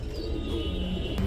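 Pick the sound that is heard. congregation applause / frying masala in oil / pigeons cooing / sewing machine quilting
pigeons cooing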